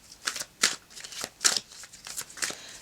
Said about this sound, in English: I'm shuffling a lot for the key cards and for the past position.